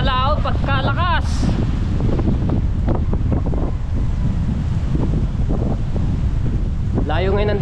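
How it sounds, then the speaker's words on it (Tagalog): Strong wind roars continuously over rough open sea, buffeting the microphone with steady heavy noise, while a voice talks at the start and end. "Grabe ang sa laot pagkalakas."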